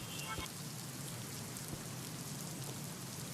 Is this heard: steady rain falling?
yes